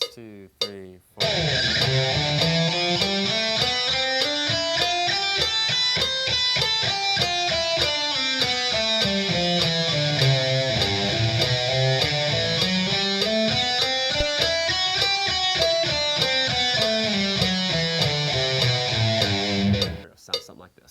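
Steady, fast picked notes on a slightly distorted electric guitar trace a pentatonic scale linked across the neck, rising and falling in repeated sweeps, played loud and solo from start to finish.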